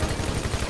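Gunfire in GTA 5 Online's Doomsday Heist rattles in a rapid, dense burst of repeated shots, loud and continuous throughout the short moment.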